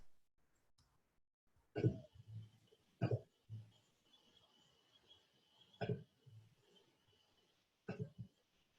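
A few sharp, harsh coughs in separate bursts with quiet pauses between, fairly close, over a faint steady background hum.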